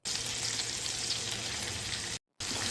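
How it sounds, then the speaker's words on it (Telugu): Drumstick pieces and green chillies fry in oil for a tomato and cashew curry, a dense steady sizzle with light stirring that cuts out briefly near the end, no voices. "పచ్చిమిరపకాయలు వేగిన తర్వాత చిన్నగా కట్ చేసి పెట్టుకున్న ములక్కాయలను కూడా వేసి కొద్దిగా కలిపి"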